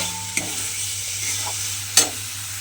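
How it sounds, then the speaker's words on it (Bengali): Mung dal being stir-fried with spices in a pan, a steady low sizzle with a couple of sharp scraping clinks of the spatula, close and alone. "এবারে ডালটাকে মশলার সঙ্গে খুব ভালোভাবে একটু কষিয়ে নিতে হবে"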